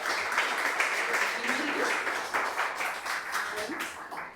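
A church congregation applauds, a dense wash of many hands clapping at moderate volume for several seconds, with some voices mixed in.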